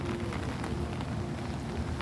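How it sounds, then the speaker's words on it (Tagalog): Rain falls steadily outdoors in Hong Kong, a continuous even hiss and patter with no talking over it. "mas maganda sana kung hindi umuulan"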